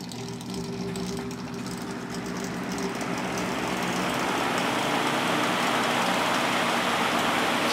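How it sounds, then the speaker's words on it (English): Patton fan running on high speed, a steady airy whoosh that swells slightly as it settles in, with a faint low motor hum underneath and no talk. "It's a pretty quiet fan."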